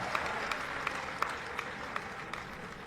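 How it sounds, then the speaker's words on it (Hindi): Audience applause to honour an artist receiving an award, a steady patter of many hands clapping with a few sharp individual claps standing out, lasting about three seconds. "एक जोरदार ताली बजा दीजिए"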